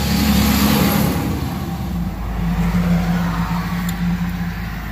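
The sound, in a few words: garbage truck driving past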